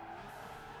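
Tyres squeal in a continuous, steady screech as a lightweight K car drifts through a corner in the Gran Turismo 5 racing game, with engine drone underneath and no pauses across the short stretch.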